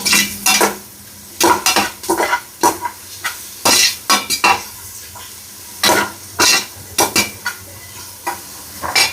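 Green chilies fry in a hot pan while a utensil stirs them, making repeated sharp scraping and clinking strokes over a soft continuous sizzle, close and fairly loud.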